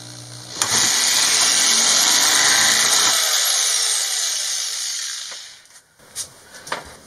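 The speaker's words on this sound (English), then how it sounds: "I have to drill a hole" A power drill whines loudly and steadily for a few seconds, drilling a hole in an RV ceiling for a plus nut, then winds down, followed by a few faint clicks and scrapes.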